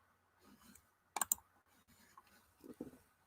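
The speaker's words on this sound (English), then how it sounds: "so you don't hear my clicking and typing" Computer keyboard clicking and typing during a live writing sprint: a sharp burst of clustered key clicks in the middle, with softer scattered taps before and after, close and fairly quiet.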